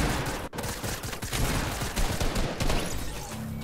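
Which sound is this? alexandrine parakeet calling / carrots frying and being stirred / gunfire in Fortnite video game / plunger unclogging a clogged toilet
gunfire in Fortnite video game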